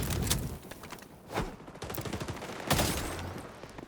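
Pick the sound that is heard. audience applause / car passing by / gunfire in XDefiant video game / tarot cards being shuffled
gunfire in XDefiant video game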